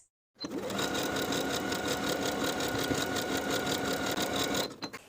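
A sewing machine runs steadily, top stitching a seam allowance along the back center panel of elastic-waist shorts, with a close, continuous mechanical whir and rapid needle rhythm for several seconds before stopping abruptly.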